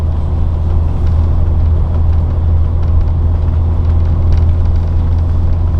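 Steady low rumble from a 2002 Monaco Dynasty 40 Chancellor tag-axle motorhome with a 400 Cummins diesel, cruising at 40 mph, a constant drone heard from inside without pause.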